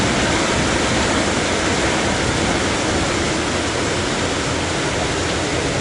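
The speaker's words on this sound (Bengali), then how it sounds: "এখান থেকে আবার একটা জল পড়ছে" Rainwater leaks and pours into a house in a steady, loud, unbroken rush that fills the whole clip, with no voices over it.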